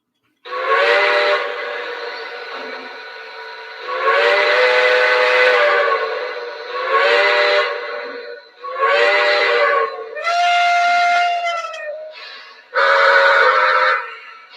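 A steam locomotive whistle sounds in a series of loud, close blasts, some long and some short, with pauses between and a shifting chime-like pitch toward the end, on a train-running session.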